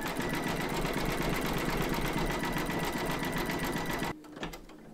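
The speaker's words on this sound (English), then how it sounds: "Pop your hoop into your machine and stitch round number eight, and that's going to zigzag along here and join the two segments together" An in-the-hoop embroidery machine zigzag stitches a crazy patch quilt block, a fast steady mechanical whir with rapid needle ticking that runs loudly, then stops abruptly near the end, leaving faint clicks.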